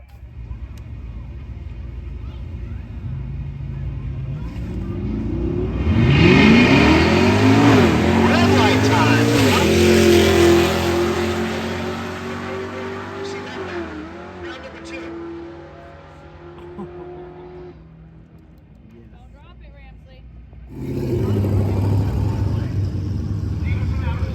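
A drag race car launches at Rocky Mountain Race Week 2023, its engine roaring up through the gears and fading down the track, then more engine noise rises near the end; people talk over it.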